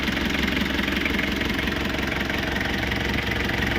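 A 1990 Toyota Hiace 2L diesel engine idles steadily up close, its even knocking chug continuous and unchanging with no voices.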